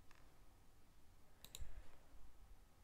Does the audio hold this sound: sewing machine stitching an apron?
no